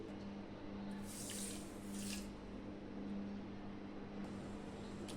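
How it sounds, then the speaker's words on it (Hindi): Half a cup of water pours from a measuring cup into a pan of sugar on a gas stove, a short soft splashing gush at close range over a faint steady background hum, no talk. "इसी मेज़र कप से हम आधा कप पानी डालेंगे।"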